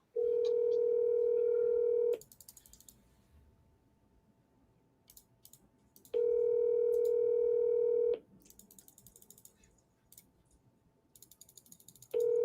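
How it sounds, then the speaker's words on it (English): An unanswered phone call rings out as loud, steady electronic tones about two seconds long, repeating every four seconds with quiet gaps between. "He doesn't even answer the phone."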